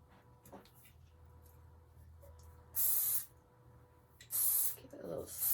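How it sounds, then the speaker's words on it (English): Two sharp hissing blasts of hairspray are sprayed onto styled hair, each lasting about a second and close to the microphone, with quiet rustling and handling sounds between them. "Give it a little spray."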